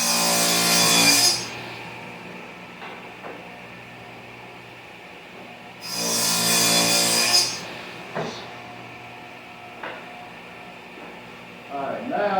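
A power saw cuts wood for a small computer desk in two bursts of loud high whine, each about a second long, with quieter shop sounds and a voice speaking in between.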